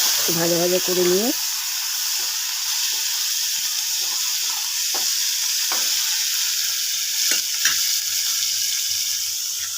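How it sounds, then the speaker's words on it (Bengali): Garlic and onion get stirred and fried in oil in a kadai, a steady sizzle broken by scattered scraping clicks of the spoon, with a short voice at the very start. "নেড়ে চেড়ে ভাজা ভাজা করে নিয়ে"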